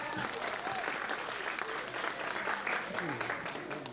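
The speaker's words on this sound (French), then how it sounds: "On l'applaudit très fort." Crowd applause for a performer at a Cameroonian comedy show: sustained, full clapping that fills the room, with voices and cheers mixed in throughout.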